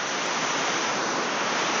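Water pours steadily at Pha Kluai Mai waterfall in Khao Yai, a broad, even rushing roar with no pauses and no voices.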